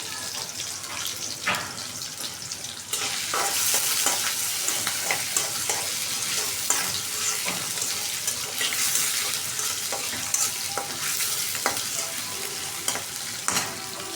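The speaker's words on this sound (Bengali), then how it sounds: "একটু ভাইজা নিলাম তেলটা" Cinnamon and cardamom frying in hot oil, a soft hiss that rises into a loud, continuous sizzle with scattered crackles and a few clinks of stirring, heard alone.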